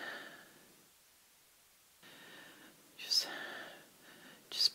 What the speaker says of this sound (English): just practice breathing.